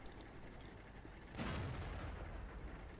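A tank cannon fires once in World of Tanks, a single sharp distant-sounding boom with a brief rumbling tail over quiet background.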